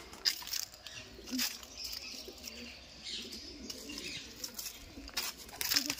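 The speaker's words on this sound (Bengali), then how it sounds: "এই পাশে পায়রা আছে পাও কত বড় বড় পায়রা আছে" Soft cooing of large pigeons and scattered bird chirps in a forest, with faint background voices and ambient noise throughout.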